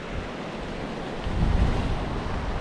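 Strong wind buffets the microphone with a low rumble while surf washes steadily along the shoreline at Saltom Bay, Whitehaven, Cumbria, growing louder midway through.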